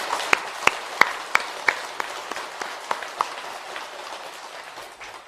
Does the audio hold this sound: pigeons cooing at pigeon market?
no